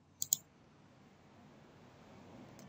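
Two quick mouse clicks on a computer while working in Microsoft Word, sharp and close, followed by faint room hiss.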